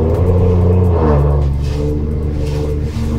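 A Geely Coolray 1.5 three-cylinder engine with a tuned exhaust revs close by, its deep rumbling exhaust note rising and then easing back while the engine idles steadily underneath.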